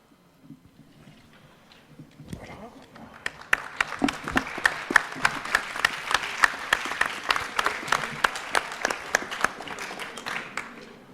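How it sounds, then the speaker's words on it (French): An audience at an opening address for study days in Le Havre breaks into applause after a quiet start, the clapping building quickly and holding steady with sharp individual claps standing out. "Je dirais que vous avez applaudi."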